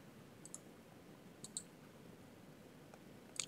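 Computer mouse clicks while installing fonts, a few sharp faint clicks in small pairs spaced apart, over a quiet room hiss.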